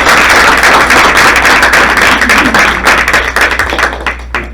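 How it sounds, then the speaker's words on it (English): Applause breaks out at a school board meeting for a departing board member, a loud close burst of many hands clapping, with individual claps thinning out and fading toward the end over a low room hum. "Can we give him a round of applause?"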